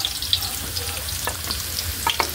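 Slices of ginger fry in hot oil with a steady, close crackling sizzle, broken by a few brighter pops and spatters.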